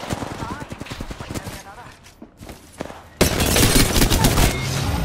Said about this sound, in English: Who the fuck is shooting me, bro?